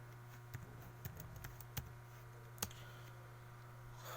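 A command is typed on a computer keyboard, with a handful of soft, separate key clicks over a quiet electrical hum.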